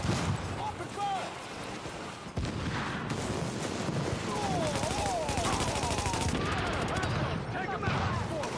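Dense, continuous gunfire rattles through a firefight in The Division video game. Rapid bursts overlap with no real pause, and voices shout over the shooting.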